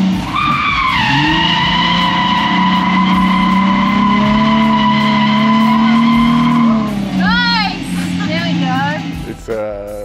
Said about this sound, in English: it's just getting a controlled drift, doing the donuts correct, doing the eights